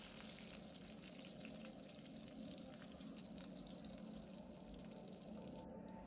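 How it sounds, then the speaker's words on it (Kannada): Crushed garlic and curry leaves frying in hot oil for tomato chutney, giving a steady, soft, continuous sizzle with no break, heard alone. "ಬೆಳ್ಳುಳ್ಳಿ ಕರಿಬೇವನ್ನ 1 ನಿಮಿಷ ಫ್ರೈ ಮಾಡ್ಕೊಳ್ಳೋಣ."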